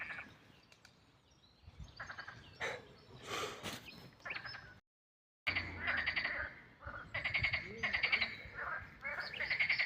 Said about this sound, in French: il y a des grenouilles dans le coin.